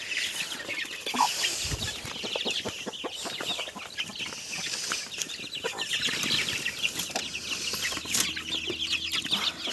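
A hen clucks in short bursts amid a busy farmyard, with scattered bird chatter and rustling around it, at moderate volume.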